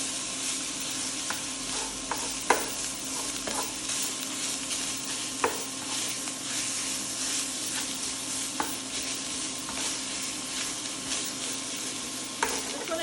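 Ground pork sizzles steadily as it fries in an old cast iron skillet, with a spoon or spatula scraping and stirring through it in occasional sharp clicks, close and continuous with no talking.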